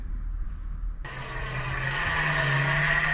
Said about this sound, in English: that's the sound of another boat going over the top